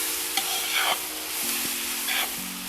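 Steady sizzling of onion frying in a pan in leftover oil from browned lamb, with a few scraping stirs and soft clanks of a utensil against the pan.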